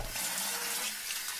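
Cold water runs steadily from a tap for washing the face, a soft continuous hiss close by with no voices.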